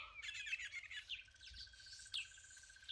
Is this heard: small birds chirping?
yes